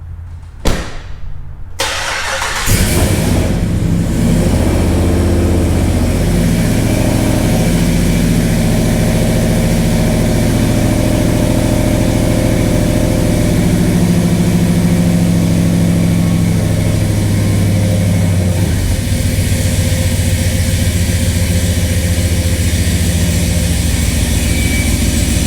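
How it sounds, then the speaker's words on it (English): A Hellcat Ram truck engine cranks and fires after a couple of sharp clicks, then settles into a loud, deep, steady idle that rumbles on close by for over twenty seconds. "So let's start up the Hellcat Ram, move this out"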